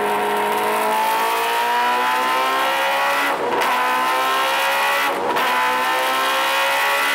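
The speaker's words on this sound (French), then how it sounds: "nous avons dans ce truc un cœur qui est un 4 cylindres en ligne, compressé avec une turbine suralimentée" Supercharged inline-four Kawasaki H2 motorcycle engine screaming at high revs, a loud sustained harmonic whine with two brief dips where the pitch drops and climbs again, like quick gear changes, with no voices.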